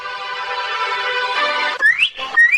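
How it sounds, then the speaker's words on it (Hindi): A cartoon girl whistles to call animals, with a few quick rising whistle glides following a sustained tonal musical backdrop. "बाहर निकलकर मीनू ने सीटी बजाई।"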